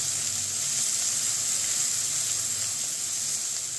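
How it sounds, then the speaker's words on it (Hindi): Finely chopped onions fry in hot oil with a loud, dense, continuous hiss-like sizzle, close and unbroken throughout, with no voices. "प्याज को भुनेंगे अच्छे से।"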